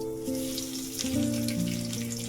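Curry leaves and garlic hit hot oil in a pan while cooking a spicy surmai (kingfish) curry, giving a steady close sizzle and crackle that swells slightly midway, with no talk over it.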